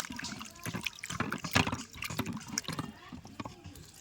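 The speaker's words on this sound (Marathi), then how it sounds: "पहिला चिकन मस्तपैकी धवून घेऊया मस्तपैकी पाणी टाकलं आहे आता धवतो मस्तपैकी" Raw chicken being washed by hand in a vessel of water on an outdoor wood-fired stove setup, with steady close splashing, sloshing and dripping throughout and no talk.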